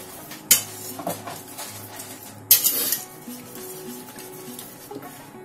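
Beaten egg mixture with cheese being stirred in a bowl, with two sharp utensil knocks against the bowl followed by softer scraping and clinking, close and fairly loud.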